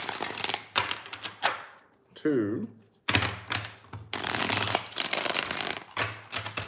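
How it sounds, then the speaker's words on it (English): Tarot cards are shuffled by hand during a mini reading, several quick papery riffles and soft thunks separated by pauses, close up, with people talking between and over the shuffles. "3 shuffles here."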